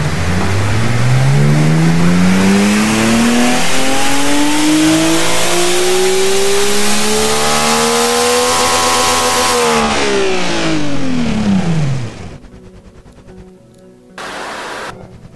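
A virtual car engine in the Automation tycoon game sweeps upward through its rev range on a dyno pull, a loud continuous rising drone that climbs for about ten seconds, then drops away sharply and cuts off with brief quiet gaps.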